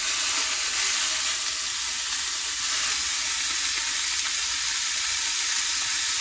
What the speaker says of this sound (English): we're gonna start cooking our meat